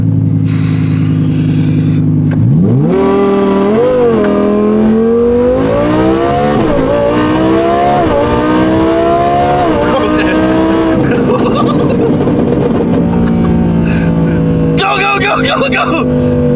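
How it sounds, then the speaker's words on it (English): A car engine revs up hard in rising pulls, then drops into crackling engine braking on deceleration, loud and close, with excited voices shouting over it. "Ooh, the engine braking."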